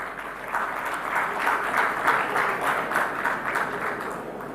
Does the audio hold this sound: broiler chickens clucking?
no